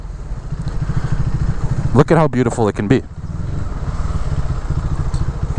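A motorbike rides down a Chicago alleyway, its engine a steady low rumble close by, briefly covered by someone talking before the engine note returns alone.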